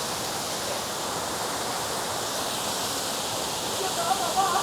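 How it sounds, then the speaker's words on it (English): A small waterfall pours steadily, a constant broadband rushing close by with no break, rising slightly near the end. "This is a smaller waterfall right here."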